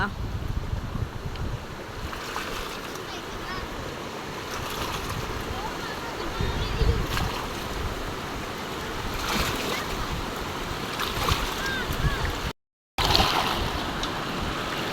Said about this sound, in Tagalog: Malaki na po ang agos.